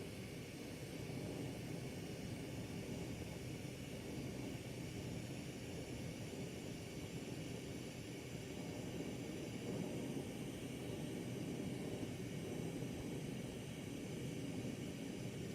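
A big glassblowing torch flame runs with its afterburner on, giving a steady, loud, broadband roar that holds evenly throughout with no talk.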